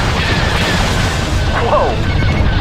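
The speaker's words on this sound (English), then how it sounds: "I've got a starship firing at me." Starship firing on the player's craft in the TIE Fighter space combat game: continuous rumbling booms and bursts of laser and explosion effects beneath a steady engine roar, with a short rising tone partway through.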